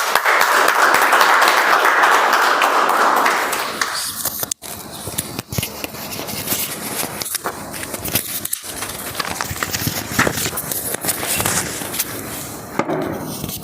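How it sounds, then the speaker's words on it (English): A crowd at a Toastmasters club meeting gives a standing round of applause for a speaker, a dense, loud burst of clapping for about three seconds that fades as a voice begins talking over a quieter room. "may I request all of you, once the speech is done, to give a standing round of applause for her"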